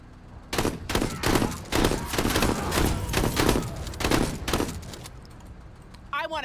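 Rapid bursts of shotgun fire in a video game firefight, a dense string of loud, sharp blasts packed closely together, then a brief quieter tail.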